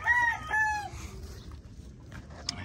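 A rooster crows nearby in a couple of drawn-out calls, followed by quieter clucking and scattered farmyard noises.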